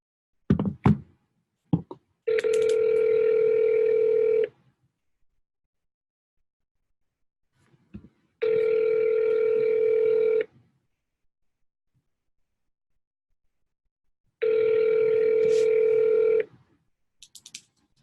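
Three long steady ringback tones sound on a phone call, each about two seconds and spaced evenly apart, with a few knocks and handset clicks at the start and a short noise at the end.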